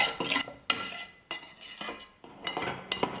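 A metal spatula scrapes and spreads egg masala across a hot frying pan in bursts of clinking, scraping strokes, with a soft sizzle underneath and no talking.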